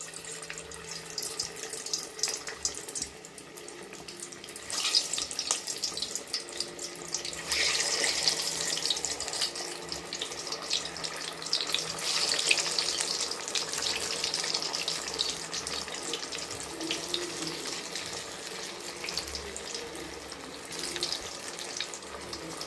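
Gulab jamun made with carrot dropped into hot oil, giving a steady bubbling sizzle that swells louder after a few seconds and carries on evenly, with no talking.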